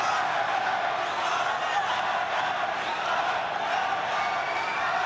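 Boxing crowd chanting for a fighter during an active round, a steady roar of many voices held at an even level throughout.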